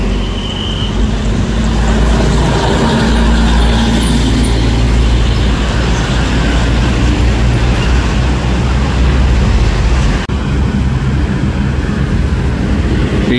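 A Coyo intercity bus on the Cirebon–Semarang route roars past the RM Aroma Cirebon roadside restaurant, a loud, close, continuous engine and road rush that holds steady throughout.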